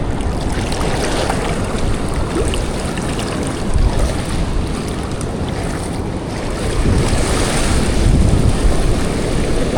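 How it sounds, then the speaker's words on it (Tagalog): Strong sea waves slosh and crash around a small fishing boat off Guiuan, with heavy wind buffeting the microphone; a continuous loud rumble of water and wind surges in places, with no talking. "Lakas din ng alon."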